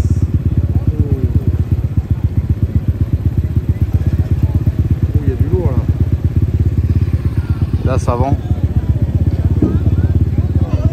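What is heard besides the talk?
motorcycle riding through Puerto Lopez street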